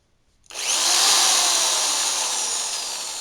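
A repaired electric drill starts abruptly and runs in reverse, giving a steady, loud, high-pitched whine. The motor hum sustains evenly for about three seconds with no talking.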